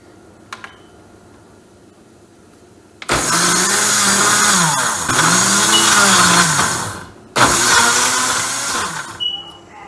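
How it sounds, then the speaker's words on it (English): A blender roars loudly in two bursts blending locust beans with water, its motor whining steadily with a brief pause between runs. "Cover it, I will blend."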